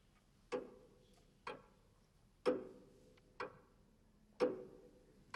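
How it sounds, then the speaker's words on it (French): Four ornate pendulum clocks placed in a Moroccan royal tomb tick slowly and steadily, each sharp, resonant tick about a second apart with a short ringing decay, faint and isolated in a quiet room. "leur tic-tac obsédant accompagne Moulay Ismaël dans sa dernière demeure"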